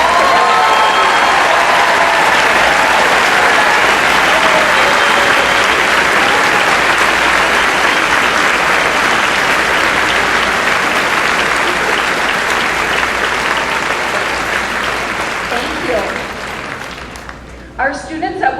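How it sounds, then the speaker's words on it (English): A graduation ceremony audience at Woodbury High School applauds for academic excellence, with loud, dense, sustained clapping filling a large hall for well over fifteen seconds before tapering and thinning out near the end. "please stand and receive our applause for excellence in academics."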